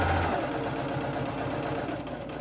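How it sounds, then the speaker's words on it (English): A sewing machine stitches along the top edge of a reversible fabric face mask, running steadily and close up with a continuous mechanical whir and rapid needle clatter, with no pauses. "And then you're going to just sew along the top edge."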